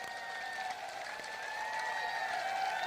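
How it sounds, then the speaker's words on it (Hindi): Crowd applause at an outdoor political street-corner rally in Rajasthan, a steady wash of clapping held at an even level for about three seconds, with faint voices mixed underneath. "इसके खिलाफ देखिए ताली बज रही है।"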